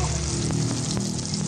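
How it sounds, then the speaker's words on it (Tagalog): Banana turon frying in hot oil, a steady broadband sizzle with faint crackles running continuously at moderate level, with low hum underneath. "Prito na sa banana turon."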